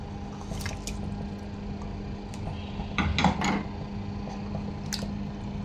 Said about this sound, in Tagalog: And then, ilalagay ko na yung ating isda.